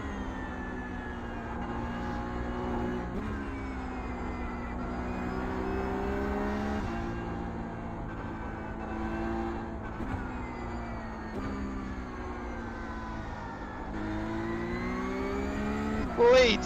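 Porsche Cup race car engine in the iRacing sim at Miami, a steady droning growl that rises and drops with repeated throttle changes and gear shifts, partly under a driver's quiet talk.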